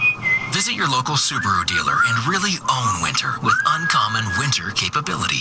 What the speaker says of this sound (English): that sound is our confident driver whistling Beethoven's Fifth